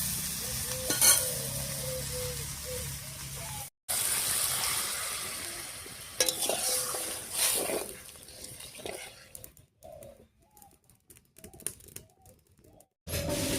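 Water goes into a pan of potatoes fried with salt and turmeric, setting off a loud rushing sizzle mixed with stirring scrapes and clatter that comes in bursts, with a few brief silent gaps.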